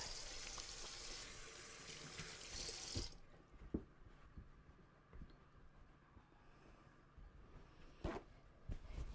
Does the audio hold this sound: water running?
yes